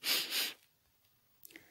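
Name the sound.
storyteller imitating an ogre sniffing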